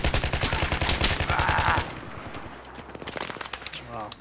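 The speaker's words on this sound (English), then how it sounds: "Wow, they're taking shots at me." Enemy gunfire in a video game: a dense, loud rattle of rapid shots for about two seconds, then quieter scattered pops and action behind faint voices.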